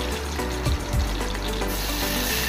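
Hot oil sizzles loudly as green chillies and curry leaves hit a tadka of mustard seeds and cumin, with a couple of sharp spits near the start before the frying settles into a steady crackle.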